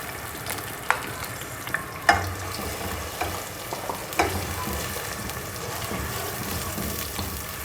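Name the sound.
blended onion frying in hot oil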